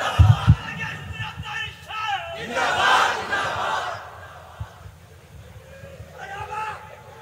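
A crowd at a Bangladeshi religious sermon gathering roars out slogans in unison in answer to a takbir call, a loud swelling group shout that peaks mid-clip and fades, with voices over a reverberant hall.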